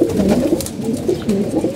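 Pigeons coo in a loft, soft repeated throaty rolling calls, close and overlapping, with no talk.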